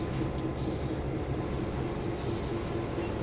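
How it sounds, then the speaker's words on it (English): Train in Train Sim World on Canadian National's Oakville Subdivision, a steady loud rumble of wagons rolling over rails with a faint high squeal running through it, no talk. "Train's jolting around all over the place."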